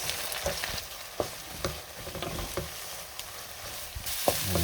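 Sautéed sardines and egg sizzle in a pan while a utensil stirs and scrapes, giving steady frying crackle punctuated by irregular clinks and scrapes, close and fairly quiet, with no talk.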